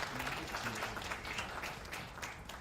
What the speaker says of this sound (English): let's appreciate the KBC Choir one more time